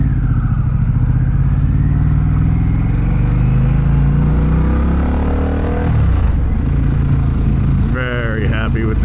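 A Harley-Davidson Pan America fitted with a Vance & Hines exhaust rumbles loudly and steadily, its pitch gliding as it revs, then dropping before a brief clatter near the end, close to the listener.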